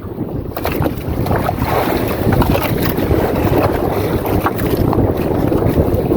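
A traditional Filipino fishing boat out at sea with its engine running in strong wind: a loud, constant rumble mixed with heavy wind buffeting across the microphone and no clear speech.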